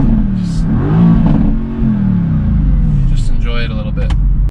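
A Mercedes-AMG GT S sports car drives along with a deep, steady engine drone. The engine swells and revs through the run, with whirring at the end.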